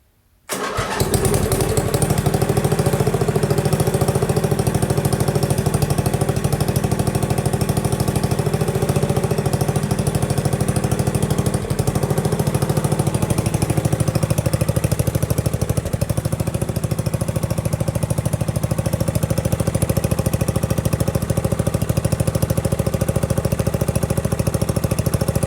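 A Sears lawn tractor engine catches after a brief start and keeps running, a loud, close, steady mechanical drone with a rapid pulsing beat that lasts throughout, with no one speaking.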